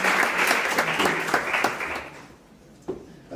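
An audience applauds to welcome keynote speaker Jeff to the stage at a teachers' event, with dense clapping that fades away after about two seconds, then a few isolated claps.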